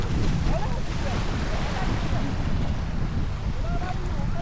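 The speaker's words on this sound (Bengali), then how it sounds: "প্রচণ্ড ঢেউ, পুরো বালিয়াড়ি।" Strong sea waves breaking near a rocking boat in the Sundarbans, a loud continuous rush of surf buffeted by heavy wind noise on the microphone.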